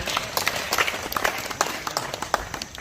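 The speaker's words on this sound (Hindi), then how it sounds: "एक बार जोरदार तालियां।" An audience at a poetry gathering in an ashram in Kanpur bursts into vigorous applause, a dense, busy patter of many hands clapping throughout the short stretch, fairly close and lively.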